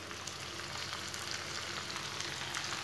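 Chopped tomatoes and whole green chillies, cut in halves, sizzle steadily in a pan of hot oil, a dense, even crackle holding at a constant level for the whole stretch with no voices.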